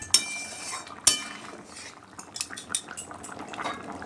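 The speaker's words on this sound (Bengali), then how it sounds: "2 মিনিট পর আলুর দমটা নেড়ে দিলাম" A metal spoon stirring a curry of new potatoes and peas in a kadai, two sharp clinks against the rim followed by softer scraping and shuffling.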